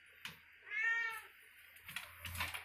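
A pet cat meows once in a drawn-out, close cry, followed by softer rustling and faint movement sounds nearby.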